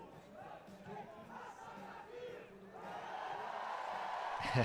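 A stadium crowd at a Paralympic five-a-side football match between Brazil and Turkey roars and chants before kickoff, swelling steadily louder toward the end, heard from a distance.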